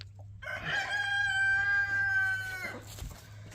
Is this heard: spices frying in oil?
no